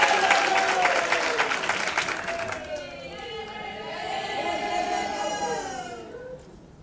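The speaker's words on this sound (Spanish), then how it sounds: "Fuerte el aplauso y David." Audience applause at an international seminar on language revitalization experiences, a few seconds of clapping that fades as voices and talk take over in the hall.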